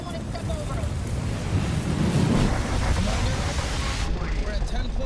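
Strong storm wind gusts from The Martian film roar in a broad, steady rush with swells and buffeting, like surf-heavy weather on a microphone, continuing throughout and loud.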